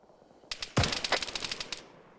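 Vehicle-mounted .50 caliber machine guns fire in ArmA 3, several rapid bursts of heavy, booming shots rattling off one after another over about a second and a half, loud and close.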